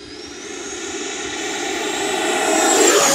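An FMS BAE Hawk 80mm electric ducted-fan RC jet accelerates for takeoff with a smooth, rising whine that swells steadily louder and higher as it speeds away, with no talking.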